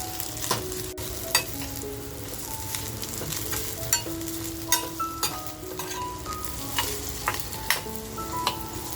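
Grated coconut dry-roasting in a pan for a spicy village-style mutton curry, with a steady soft sizzle and intermittent scraping stirs and clinks of a spoon against the pan, close and without talk.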